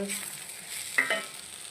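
Puttu upma with chopped coriander leaves being stirred in a pan, giving a soft broadband scrape and sizzle with one sharper clink near the middle, fairly quiet and without voices.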